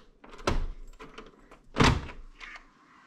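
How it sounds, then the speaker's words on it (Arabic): A home door being opened in the morning: two distinct thumps a little over a second apart, the second heavier, with quieter rattles and clicks between them. "اروح افتح لهم الباب"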